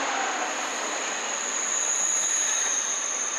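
A French turbo-train passes on rails, giving a steady, loud rushing roar with a high whine held throughout, no voices.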